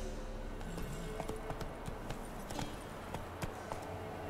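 Roach, a horse in The Witcher 3, gallops in a quick, steady clip-clop of hooves over a constant outdoor background bed, with no voices.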